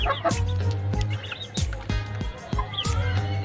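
Chickens kept on a house rooftop poultry setup cluck and call repeatedly, close and fairly loud, with several birds overlapping in short rhythmic bursts.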